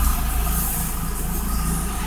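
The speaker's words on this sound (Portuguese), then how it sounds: "foi um barulho de um carro" A passing car rumbles steadily at close range, a broad low-pitched roar that holds level throughout with no speech over it.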